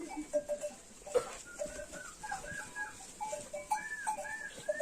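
Many sheep and lambs bleat in overlapping calls, some higher and thinner, scattered across a busy pen with light background rustle.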